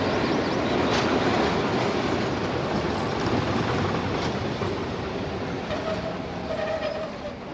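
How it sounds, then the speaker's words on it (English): A British Rail diesel multiple unit train runs with a loud, steady rumble and rhythmic wheel clatter, fading slightly toward the end. "Ah, the familiar cry of the lesser-spotted DMU."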